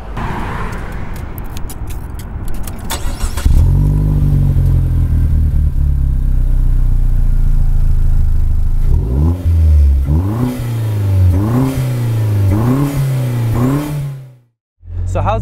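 A Vanderhall Venice three-wheeler's engine cranks and starts, settles into a loud steady idle, then is revved in several rising and falling bursts before cutting out briefly, a voice faintly heard early on.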